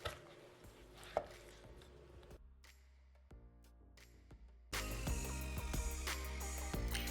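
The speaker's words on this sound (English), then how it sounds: "Now listen, you can hear juiciness right now." A knife cuts into a juicy whole oven-roasted chicken, giving faint, close wet crackles and scrapes, followed by a louder, denser stretch of crisp skin and moist crunching.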